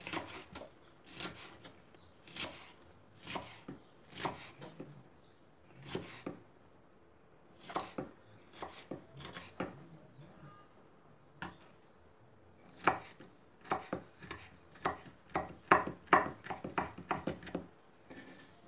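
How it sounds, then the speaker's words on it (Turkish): A knife chops food finely on a board in irregular bursts of crisp, close taps, some quick runs and some single strokes, with pauses between, fairly quiet overall. "Sosumda kullanacağım için ne kadar küçük doğrarsanız o kadar güzel olur."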